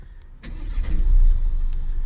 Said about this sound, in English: So now, after giving it time to set, we come back to the vehicle, start it up.